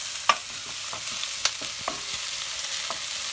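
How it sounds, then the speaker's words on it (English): Chopped onion, spring onion and ginger sizzle steadily in a hot wok, with occasional sharp clicks and scrapes as the aromatics are stirred, close up with no voices. "my onion and my ginger. And I'm going to fry that off"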